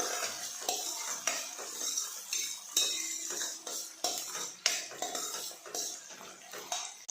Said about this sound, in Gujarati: હવે આપણે એક મીડિયમ સાઇઝનું કટ કરેલું ટામેટું નાખીશું તેને પણ આપણે સારી રીતે સાતરી લેવાનું છે